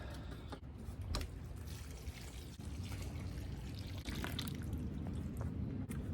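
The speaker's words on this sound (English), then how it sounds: "add about 3/4 of the required water into the hole" Water pours into a fence post hole filled with concrete mix, a splashing, gurgling flow with a few sharp knocks and a steadier rush toward the end, close by and without speech.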